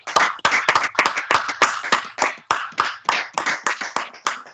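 A church congregation claps in steady rhythm to acclaim the Lord during a Sabbath service, with about sixteen close, crisp hand claps over a few seconds and no voices.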